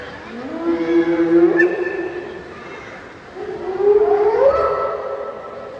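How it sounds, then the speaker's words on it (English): Two long, rising whooping calls of a spotted hyena at a night safari, each swelling upward in pitch and then fading, heard in the open without talk. "Those were the calls of the spotted hyena, used to communicate with other members of the clan."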